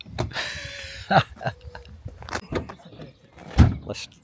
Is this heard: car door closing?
yes